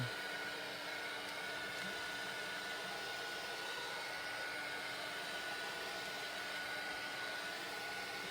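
Heat gun blowing steadily while drying alcohol ink for a craft background, a continuous close, even whooshing roar of hot air with no pauses.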